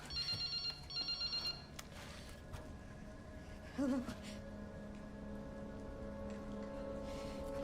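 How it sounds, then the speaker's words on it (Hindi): A mobile phone rings in the Resident Evil 9 Requiem video game, giving repeated short electronic trills over steady rain-like ambience, with a brief tonal cue partway through. "ये मोबाइल फोन बज रहा था।"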